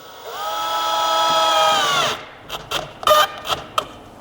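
A power drill whirs steadily for about two seconds, driving a screw through a drawer slide into a cabinet, then stops, followed by a few light clicks and taps as the slide is handled.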